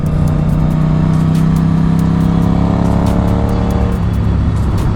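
Honda RC51 motorcycle engine cruising at low, lugging revs on an open road, a steady loud drone with deep rumbling harmonics that shift slightly near the end, alone without talk.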